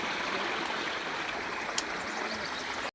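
Cold stream water rushing in a jungle, a continuous close, bright burble with a brief splash near the middle, running alone until it cuts off abruptly.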